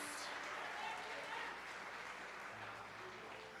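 Steady applause from a crowd fills the whole stretch, a dense wash of clapping with no clear pauses.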